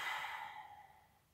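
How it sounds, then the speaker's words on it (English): A single slow exhale during a guided breathing meditation, a soft airy sigh that starts fuller and fades gradually to quiet, close and alone with no talk. "and breathing out fully."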